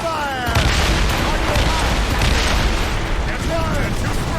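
Ship cannons boom repeatedly in Assassin's Creed Rogue naval combat, a rumbling barrage of overlapping blasts amid sea and battle noise, with shouting crew voices mixed in.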